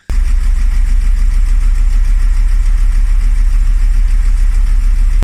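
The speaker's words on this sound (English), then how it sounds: "Bit of a rough idle, bit of a misfire." A neglected BMW E36 M3 3.0 idles roughly with a misfire: a loud, close, continuous low engine drone that holds steady throughout, with no voices.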